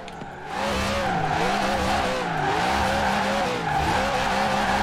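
Tires squeal loudly and continuously as a car drifts sideways in Forza Horizon 4, the pitch wavering as the slide swings back and forth over a steady engine drone, with a brief dip near the start.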